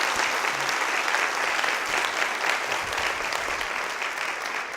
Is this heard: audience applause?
yes